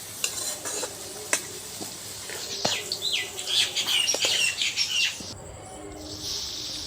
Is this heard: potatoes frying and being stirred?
yes